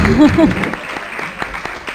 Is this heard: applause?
yes